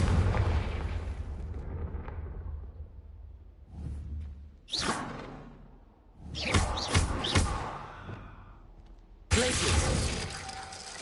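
Spell explosions from Bombarda and Confringo in Hogwarts Legacy: several loud booming blasts with shattering debris, separated by brief pauses, each burst sharp and close with rumbling tails.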